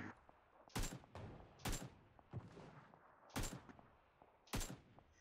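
Long-range gunfire in PUBG PC Lite: four sharp, loud shots spaced roughly a second apart, each with a trailing crack and echo, over a faint background.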